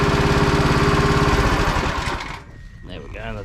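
A lawn mower engine idling down during a gardening job, its steady droning hum sagging and cutting out after a couple of seconds, followed by a quieter stretch with a voice speaking briefly.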